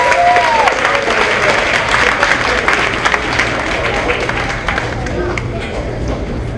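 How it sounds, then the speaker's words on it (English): Audience applause at a 5th grade promotion ceremony, a dense, steady wash of many hands clapping for several seconds with faint voices and cheers mixed in. "One more round of applause, please."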